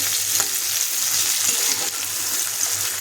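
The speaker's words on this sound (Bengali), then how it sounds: "সেদ্ধ করা একটু ভাপানো যে আর আলুটা আছে এটা তেলের মধ্যে দিয়ে দেবো" Boiled potatoes dropped into hot oil and frying, a dense, loud, even sizzle close by with faint stirring scrapes underneath, no speech.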